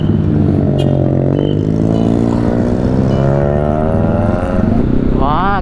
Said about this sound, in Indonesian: Boleh lah motor baru nih.